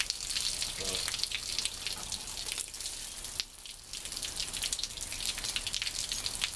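Water rushing steadily through a heater core hose during a flush on a 1973 Plymouth Valiant, a continuous splashy hiss that barely changes, with a short dip partway through.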